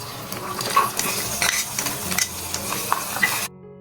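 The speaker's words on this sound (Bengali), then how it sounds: "এখন সবজিগুলো দিয়ে একটু ভাজা ভাজা করে নেব" Vegetables stir-frying in a pan for a Chinese dish in a small home kitchen, with steady sizzling and repeated scraping stirs of a utensil against the pan, close and fairly loud, ending abruptly.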